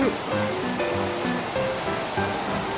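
Creek water rushing and splashing at a stream crossing on a rural road trip, a dense close wash of flowing water throughout with faint voices briefly mixed in.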